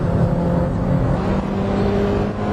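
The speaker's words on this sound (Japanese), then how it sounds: "ドリフトが決まるスカイラインは偉い偉い。" A Nissan Skyline drifting during a race at Tsukuba circuit produces a loud, continuous engine drone with a rough, gritty tone, sustained at near-constant level with slight wavering throughout.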